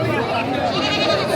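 A large goat of Beetal cross breed bleats at a livestock market, a short loud, wavering call close by with crowd noise behind it.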